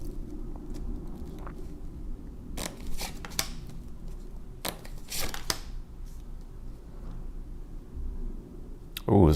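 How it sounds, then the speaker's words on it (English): Deck of tarot cards being shuffled by hand, repeated short riffling and flicking bursts spread unevenly across the stretch, close and moderately loud over a quiet room background. "Y'all see me shuffling the shit out of these cards"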